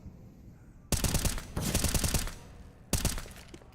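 Grenade blasts and bursts of gunfire in a Counter-Strike match at a BLAST.tv Major Europe RMR esports event: three loud, sharp broadband bursts, the middle one a sustained rattling volley, with no talk over them.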